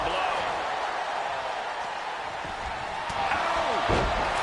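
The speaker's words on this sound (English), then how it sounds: "Oh, what a clubbing blow." A heavy slam impact lands over a continuous crowd roar in the WWE 2K25 wrestling video game, a clubbing blow near the end of the clip. Commentary-like voices sit under the arena noise.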